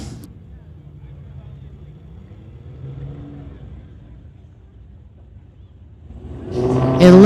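Drag race cars at a street-legal event, one a Dodge Charger in the far lane, rumble at a distance with low engine drone, then a loud revving launch surges up close at the end, with a commentator talking over it.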